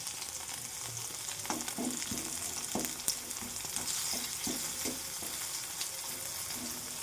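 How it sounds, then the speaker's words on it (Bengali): Nigella seeds and a dried red chili crackle and sizzle in hot oil, a steady close fry broken by a few sharp pops and light stirring clatter, with no voices. "কালো জিরে ফোড়ন দিলাম, আর একটা শুকনো লঙ্কা ফোড়ন দিলাম"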